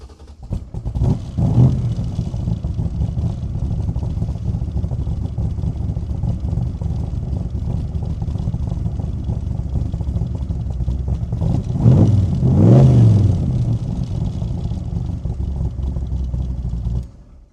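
A 1965 Backdraft Shelby Cobra's carbureted engine cranks and fires, then runs at a steady loud idle with two rough blips of revving, close by and without speech.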